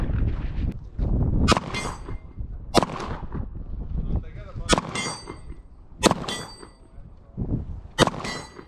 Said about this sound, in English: after these guys get done shooting